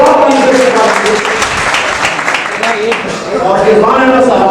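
Strong rolling applause welcomes a speaker at a hotel gathering of party workers, with crisp individual claps audible and voices talking through the opening and closing moments.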